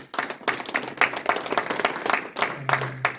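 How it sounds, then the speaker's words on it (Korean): Steady, dense applause from a room full of people at a church worship service, loud and continuous for a few seconds, with some crowd noise mixed in. "뜨거운 박수를"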